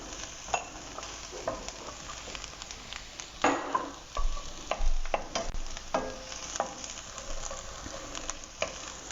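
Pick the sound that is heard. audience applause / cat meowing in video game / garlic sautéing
garlic sautéing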